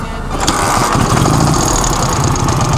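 A 2024 KTM Duke 390 motorcycle engine catches on the first try and settles into a loud, close, throbbing idle.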